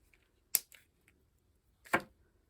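Two sharp, separate snips of wire being cut for a handmade paper bead, quiet and close with near silence between them.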